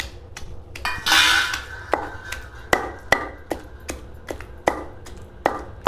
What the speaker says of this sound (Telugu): ఇప్పుడు ఎల్లిపాయలు వేసుకొని దంచుకుందాం.